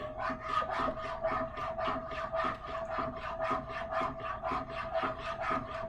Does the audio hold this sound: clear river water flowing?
no